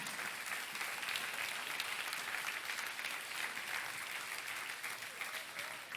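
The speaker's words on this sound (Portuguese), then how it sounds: "Aplauda ao Senhor com alegria." A church congregation applauding during a sermon, a steady, continuous wash of many hands clapping, heard at a distance and fairly faint, holding evenly throughout.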